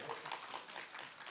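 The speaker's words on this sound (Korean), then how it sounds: "박수가 이렇게 많이 나와요?" Audience applause in a lecture hall at a Korean Bible academy talk, a dense steady patter of many hands clapping at moderate distance, continuous through the short stretch without a clear voice.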